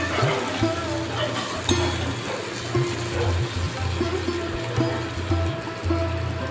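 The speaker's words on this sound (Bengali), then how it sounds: "কাঁচা লঙ্কা কুচো আর পেঁয়াজ কুচো দিয়ে দিচ্ছি। হালকা হালকা করে ভেজে নিতে হবে।" Chopped green chilli and onion frying gently in a pan for lote fish jhuri, giving a steady close sizzle with light stirring clinks throughout.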